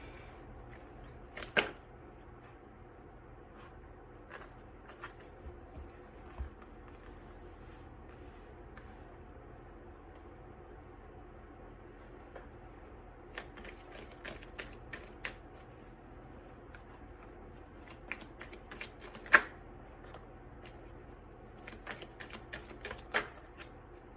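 Tarot cards being shuffled and picked in a quiet room, faint soft riffles and taps with a few sharper card snaps and bursts of crisp flicking, no talking.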